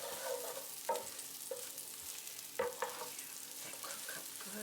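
Beef and onions sizzling in a pan, a steady soft frying hiss broken by a few sharp scrapes and knocks as a utensil stirs them.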